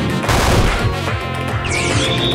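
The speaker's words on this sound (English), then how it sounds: "He has explosion!" In a Pokemon video game, an explosion attack bursts out loud and crashing, a dense rumbling blast that rolls on, followed by a rising synthesized sweep.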